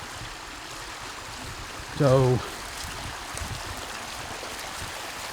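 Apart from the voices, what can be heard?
rainwater running through a pond after heavy rain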